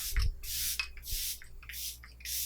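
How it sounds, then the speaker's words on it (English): A makeup setting spray misted onto a face in several quick hissing bursts, close and fairly loud, separated by brief pauses with small clicks of the nozzle. "I'm just gonna spray my face really quickly"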